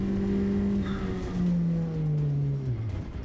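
In a racing video game, a car engine drones and then drops in pitch as the car loses grip and spins out, the sound steady and moderately loud with no speech over it.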